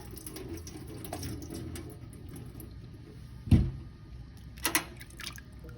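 Quiet running water trickles, and two short splashes break in as something is rinsed under the flow, with faint dripping around them.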